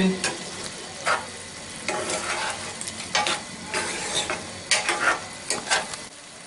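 Sugar being stirred into an oil-free beef curry simmering in a pot: a bubbling sizzle underneath rhythmic bursts of spoon scraping and knocking against the pan, close and fairly loud, with no one talking.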